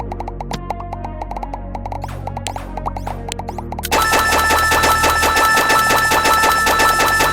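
Rapid tank gunfire in a video game at 20 fire rate, a dense stream of shots that jumps sharply louder partway through and holds steady, layered over a constant game music bed.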